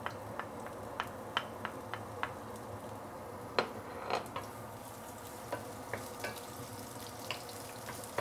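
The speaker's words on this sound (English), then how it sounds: "Once the oil is heated up, we can actually saute the ginger and also garlic first" Ginger and garlic sauté in hot oil for a grandma-style steamed fish, a faint soft sizzle under a scatter of light scraping and clinking stirs.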